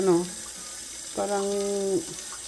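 Water from a tap runs into a pot for herbal tea in two short bursts, and a voice talks over it.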